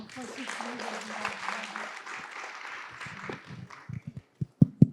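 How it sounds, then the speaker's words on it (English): Applause from an audience fills the first few seconds, then fades out into a few scattered claps and light taps. "a round of applause"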